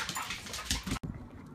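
Dog whining and whimpering excitedly just before being taken for a walk, close by, with a brief gap midway.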